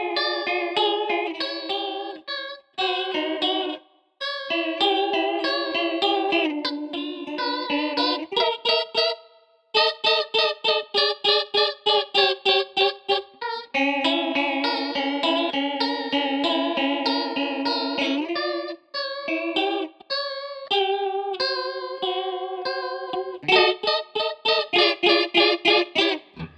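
An electric guitar runs through a Danelectro Cool Cat DC-1 chorus pedal, giving shimmering, warbling clean chords and picked phrases with short pauses between passages, played alone and close for almost half a minute.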